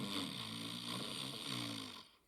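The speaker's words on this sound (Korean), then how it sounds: "그러다 괴물은 드르렁 코를 골며 잠이 들었죠." A sleeping monster in a bedtime story snores through a sound effect, a low rattling rumble in two or three drawn-out breaths that is near and fairly soft before fading at the end.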